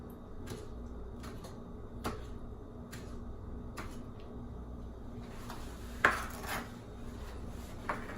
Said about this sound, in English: We're going to try to mince it up as fine as we can.